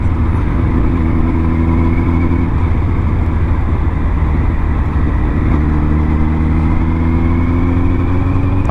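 A Suzuki Hayabusa motorcycle ridden on the road, its engine droning loud and steady with rising tones as it accelerates and shifts, all mixed with continuous wind rush from close by.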